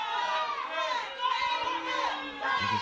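A capacity crowd at a wrestling tournament, loud and sustained, with high shouting voices and cheering throughout and a brief lower voice near the end.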